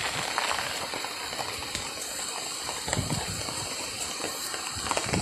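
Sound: heavy rain

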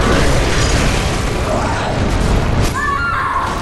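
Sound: cannon blast in the video game Bloodborne

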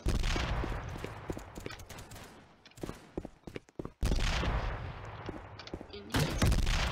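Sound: gunfire from guns in the Roblox video game Gun Testing

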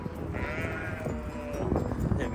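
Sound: sheep bleating

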